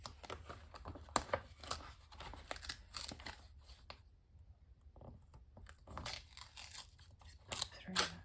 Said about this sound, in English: let's cut through that.